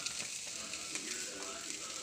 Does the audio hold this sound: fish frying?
yes